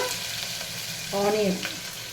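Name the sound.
green chilies and ginger garlic paste frying in a pan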